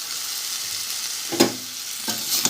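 Vegetables fry in a pan over low heat with garlic and spice powders, producing a steady hiss broken by two or three sharp stirring scrapes, close and without voices.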